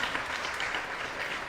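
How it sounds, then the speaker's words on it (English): An audience gives a round of applause at an International Women's Day event, dense steady clapping of a crowd filling the short moment at moderate volume, with no voices over it. "let's give a round of applause"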